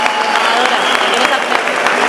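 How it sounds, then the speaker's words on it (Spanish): A crowd applauds at an inauguration ceremony for a festival, dense loud clapping sustained throughout, close and continuous with no pause. "quiero un aplauso para ellos"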